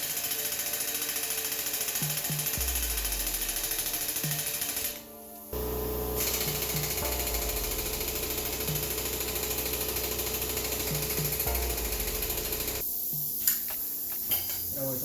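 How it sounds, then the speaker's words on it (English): A lathe machines welds off a chucked ATV shaft from a Yamaha Kodiak 450, giving a close, steady whirring and hissing cut with tonal shifts, a brief pause around the fifth second, then resuming before stopping with a couple of clanks. "we should be able to chuck the shaft straight up into the lathe and machine off the welds"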